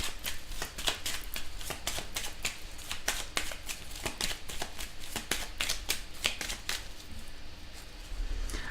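Tarot cards are shuffled and drawn by hand, a rapid series of crisp riffling snaps and flicks in an irregular rhythm, close and fairly quiet, with no voices.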